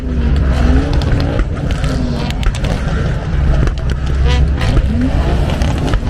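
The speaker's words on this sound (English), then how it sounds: "They're now doing the 1 o'clock rev off, and my word, there's a lot of smoke on the cars." Loud, continuous engine roar from several performance cars, including C63s, V10 M5s and RS4s, revving hard at a car-show rev-off with smoke, rising and falling pitch sweeps, crowd noise and possible voices mixed in.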